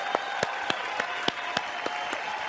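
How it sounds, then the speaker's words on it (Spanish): A canned applause effect plays, a crowd clapping steadily throughout, with sharp individual claps standing out at a regular beat over the wash. "¡Aplausos!"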